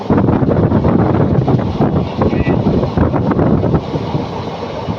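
An Intercity Express running from Erode to Palakkad rumbles loudly and steadily from on board, with heavy wind buffeting and the rattle of the carriage filling the whole stretch.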